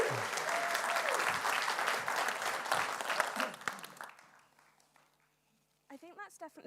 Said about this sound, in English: So welcome, give her a round of applause.